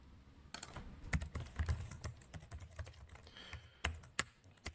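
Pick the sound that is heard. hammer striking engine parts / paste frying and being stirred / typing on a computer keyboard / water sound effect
typing on a computer keyboard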